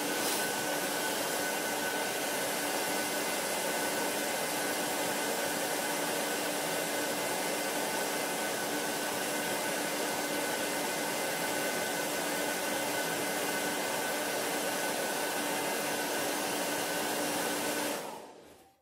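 A hairdryer runs steadily at close range to warm a downed goat, giving a constant loud whooshing blow with a faint tonal hum that lasts about eighteen seconds before cutting off abruptly.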